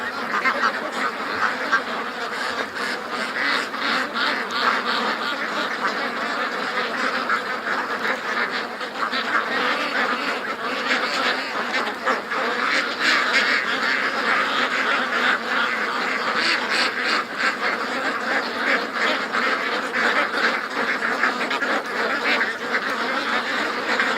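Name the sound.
ducks quacking in a swamp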